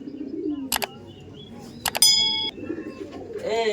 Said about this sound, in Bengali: ওই দেখুন পায়রা দেখুন কি করছে, ডানা খুলে ডাক দিচ্ছে